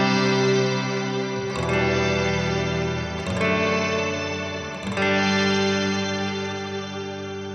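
A Telecaster through a Mr. Black Eterna reverb pedal set at noon, with three strummed chords that swell and sustain into a lush, shimmering wash that carries on between strikes, no talking.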